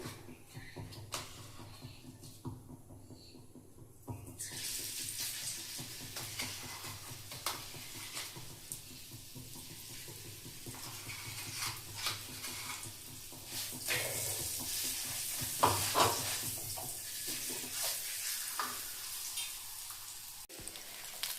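Red chilli paste for a North Karnataka red chilli chutney frying in hot oil. A steady sizzle swells after a quieter start, with intermittent spatula scrapes and taps as it is stirred.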